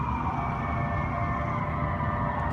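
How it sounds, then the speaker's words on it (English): Emergency vehicle sirens wail continuously outside, a steady, fairly loud tonal howl with a rumbling traffic bed beneath, no voices over it. "let's pause for yet more sirens"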